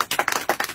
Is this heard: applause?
yes